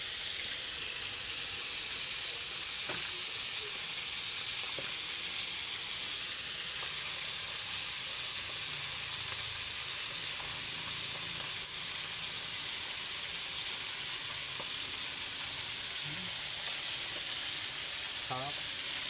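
Fish frying in a pan, giving a steady, loud hiss and sizzle that runs without a break, with occasional light clinks and taps over it and faint voices in the background.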